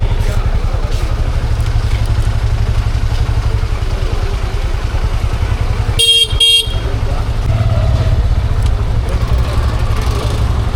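Honda CB Hornet 125 motorcycle riding through traffic in low gears, its steady engine drone running throughout beneath road noise, with a short double car-horn honk near the middle and no speech.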